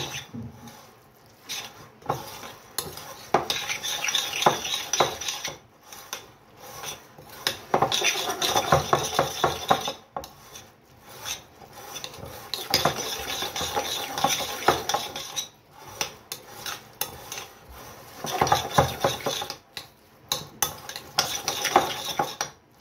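Hand-cut beef tartare mixed with its chopped garnish in a bowl: repeated scraping and clinking of cutlery against the dish, in steady bursts of stirring with short pauses, close and fairly loud, no talking.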